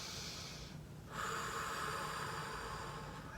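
A single deep, audible inhale through the nose during a stretching routine, close and breathy, with a steady background hiss throughout.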